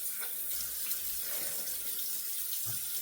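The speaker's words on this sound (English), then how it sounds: "A continuous sprayer. We'll use that on the head" A continuous water sprayer hisses in a fine, steady spray while wetting a head for a shave, a soft close rushing noise with no talking.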